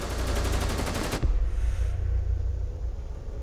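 An M249 light machine gun firing in Rainbow Six Siege, a loud rapid automatic burst of evenly spaced shots cutting off after about a second, followed by a lingering low rumble and echo.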